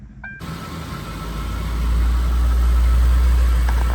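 A Ford Crown Victoria LX HPP with a 4.6 liter V8 idles quietly after a brief click, a steady low rumble that grows slightly fuller and holds evenly, heard close with no talking.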